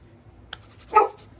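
A dog gives a single short, close bark after a faint click, otherwise quiet indoors.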